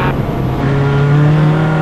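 Single-seater SCCA race cars at Mid-Ohio sweep through the carousel turn, a loud, close, sustained high-revving engine whine holding steady pitch with no talk.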